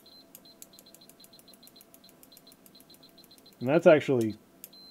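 Agilent U3402A benchtop multimeter in diode test mode, giving a rapid series of short, evenly spaced high beeps, quite faint, with someone briefly talking near the end.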